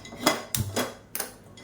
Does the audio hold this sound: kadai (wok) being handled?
yes